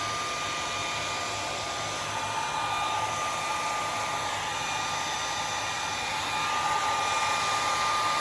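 A hair dryer runs steadily and loudly at close range, drying paint on a funky pumpkin doorhanger, with a continuous even whir and no pauses or talk.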